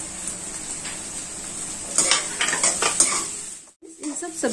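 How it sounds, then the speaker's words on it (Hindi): Vegetables sauté with garlic and ginger in a pan, giving a continuous sizzle with scraping stirs of a utensil against the metal, close and fairly loud. "इन सब सब्जी को पहले हम अच्छे से सौते कर लेते हैं।"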